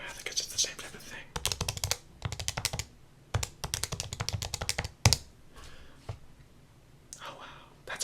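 Calculator buttons pressed in quick bursts of soft, close clicks and taps, with pauses between runs and quiet whispering-like sounds around them.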